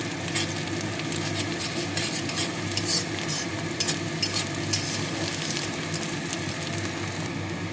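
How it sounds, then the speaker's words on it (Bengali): Chopped garlic and onion fry steadily in a pan for a vegetable stew, a continuous close sizzle with soft stirring scrapes and occasional utensil clinks, no voices. "পেঁয়াজের সঙ্গে রসুনটা আমি ভেজে নেব"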